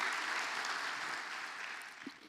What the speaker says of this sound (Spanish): ¿Quiere dar un aplauso al Señor, amado?